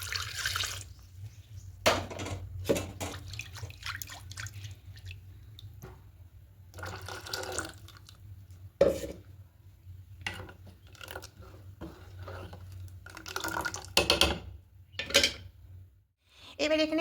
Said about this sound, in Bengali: এবার মিক্সিতে অনেকটাই লেগে আছে, এখানে আমি দুধ দিয়ে দেবো।